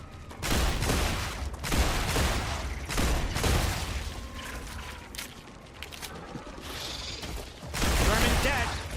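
Rapid gunfire bursts in the video game StarRupture, sharp repeated shots in clusters with mechanical clicks of a magazine change between them, loud and close, with a voice talking over parts of it.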